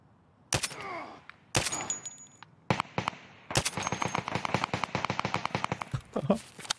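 Gunfire in Escape from Tarkov: single loud shots, then a sustained rapid burst of automatic fire close by, with brief pauses between volleys and a voice speaking near the end.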